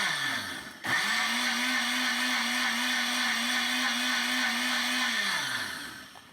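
A blender whirs in one sustained burst, pulsing paprika and other spices for hot sauce; the motor spins up sharply, holds a steady high whine for several seconds, then winds down, close and alone without talk.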